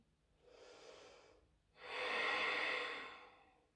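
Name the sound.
breathing during yoga flow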